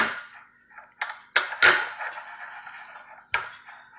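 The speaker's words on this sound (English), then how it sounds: "So I'm just going to stir properly." Homemade facial cream stirred in a bowl, heard as a few sharp clinks and scrapes of a utensil against the bowl, close and intermittent, with quieter scraping between the louder knocks and no voices.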